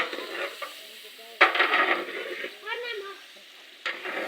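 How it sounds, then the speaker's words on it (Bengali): Khichuri stirred and fried in a large cooking pot at an outdoor Pohela Boishakh picnic, with scraping stir strokes and a light sizzle in short bursts, while voices talk in the background. "আমাদের কাকা কালাম চাষা রান্না করছে"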